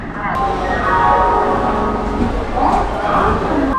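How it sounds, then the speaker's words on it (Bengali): Howrah to Midnapore local train pulling out on time, a steady loud rumble of wheels and carriages with faint tonal hum, continuous throughout with background chatter from passengers. "এই দেখুন ট্রেনটা ঠিক সময় ছেড়ে দিয়েছে"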